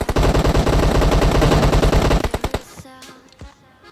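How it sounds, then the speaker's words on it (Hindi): Rapid automatic gunfire from an M762 rifle in a battle royale video game rattles loudly in a sustained burst for over two seconds, then breaks into a few scattered shots that fade out, with no voice over it. "अब भाई पीछे से होती है फायरिंग"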